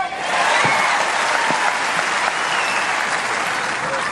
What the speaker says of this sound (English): At last, Pat Cash has given the fans something to cheer.